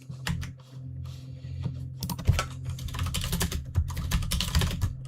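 Someone types on a computer keyboard while coding, giving close, fast clusters of clicky keystrokes with short pauses between bursts.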